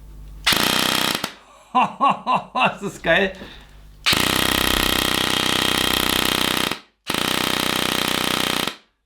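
Loud, continuous buzzing bursts of a motor-driven airsoft minigun firing at a high rate, a few seconds each, with someone talking briefly in German between bursts.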